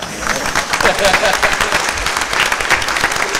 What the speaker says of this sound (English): Like, that's an applause.